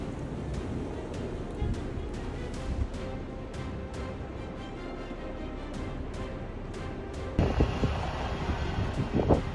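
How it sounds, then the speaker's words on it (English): Wind roaring through a blinding blizzard whiteout during a winter storm in Lexington, a constant heavy rush buffeting the microphone with repeated sharp gusts and a louder surge near the end. "This is an extremely dangerous situation when wind and snow combine into a blinding snowstorm."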